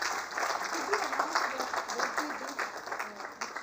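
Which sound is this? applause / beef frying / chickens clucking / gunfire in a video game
applause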